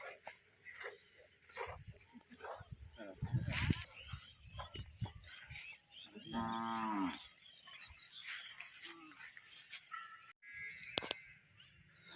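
Cows moo in a cattle shed where a calf has just been born, with a few deep, drawn-out calls, one loud and close, mixed with people talking, rustling and some clattering.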